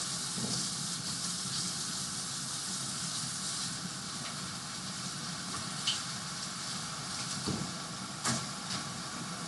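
Food sautéing in a pan gives off a steady, soft sizzling hiss, with a few faint clicks and clatters breaking through now and then.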